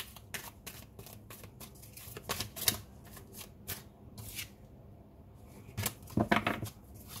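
A deck of reading cards is shuffled by hand in a series of quick, crisp riffling and flicking bursts, close and clear, with short pauses between them and no talking.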